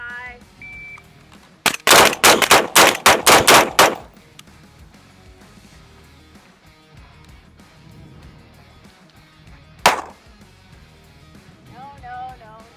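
Gunfire at targets on an outdoor shooting range: a quick string of about eight loud, sharp shots in a tight burst, then a single later shot, with scattered talk and quiet range noise between them.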